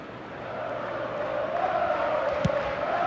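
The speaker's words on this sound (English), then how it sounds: "Certainly gave this crowd something to really cheer about." Stadium crowd in eFootball 2024 during an Aston Villa versus Manchester United match roars steadily after a strike, a dense continuous cheer swelling slightly, with one brief sharper shout near the end.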